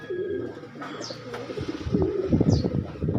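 Pigeons coo softly and repeatedly nearby, low throaty calls overlapping with a few faint chirps in the background.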